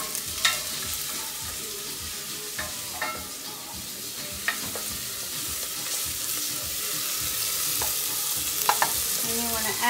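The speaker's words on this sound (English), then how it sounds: "the oil is ready, we're gonna add the onion and the garlic" Onion and garlic sizzle steadily in hot oil, with a soft continuous frying hiss and occasional stirring clinks and scrapes close by.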